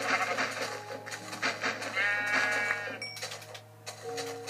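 Sheep in a video game bleat several times in quick, wavering calls over about four seconds. The calls sound close and clear, with light game noises in the background and no talking.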